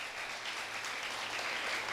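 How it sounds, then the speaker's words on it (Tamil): An audience claps steadily for dancers at a Bharatanatyam school's salangai pooja ceremony, a dense, even wash of applause heard from some distance, with no voices. "நல்லாவே கைத்தட்டலாம்,"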